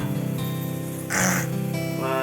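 A voice imitates a crow cawing: one short, close, nasal caw-like call followed by a brief louder cry, standing alone.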